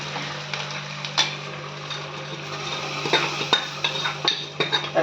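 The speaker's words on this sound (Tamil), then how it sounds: "இப்போ தாளிச்சாச்சு குழம்புல நம்ம ஊற்றிக்கலாம்" Hot tempering is poured and stirred into a pot of thattai payaru (black-eyed pea) kuzhambu, with soft sizzling, spoon clinks and stirring knocks against the vessel.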